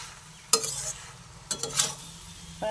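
Bottle gourd curry being stirred in a pan, with salt added, giving two distinct scraping strokes against a soft background sizzle, near and moderately loud.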